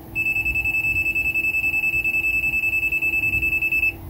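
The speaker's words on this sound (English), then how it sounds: "The tester also has a NCV, non-contact voltage detector, integrated into the unit, as can be seen demonstrated here." A non-contact voltage detector built into an outlet tester beeps rapidly and steadily, a loud continuous train of even electronic pulses held for about four seconds before cutting off.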